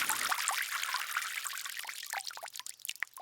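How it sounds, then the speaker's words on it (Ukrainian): Water pours steadily into a glass holding a spoonful of potato starch, a continuous splashing trickle that grows more broken and gurgly toward the end, close by with no voices. "Тепер у склянку додаємо одну столову ложку картопляного крохмалю і доливаємо воду"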